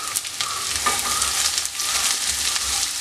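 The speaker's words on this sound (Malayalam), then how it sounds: "ഈ സവോള നല്ലതുപോലെ ഒന്ന് വഴണ്ട് വരട്ടെ." Chopped onions sautéing in a pan with ginger and garlic give a steady, close sizzle, with occasional scrapes and clicks of stirring and no voices.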